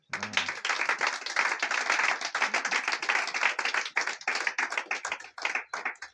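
Congregation at a church service clapping together in steady, dense applause that runs the whole stretch, close and lively with no voices over it.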